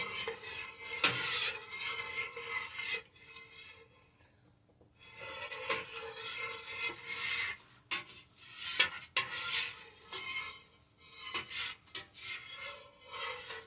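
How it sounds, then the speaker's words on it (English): A spoon steadily stirs and scrapes the bottom of a pot of fish and corn chowder, a rasping, rubbing sound heard up close in long sweeps with a short pause partway through and no talking. "Stir the bottom of that pot. Make sure nothing's sticking."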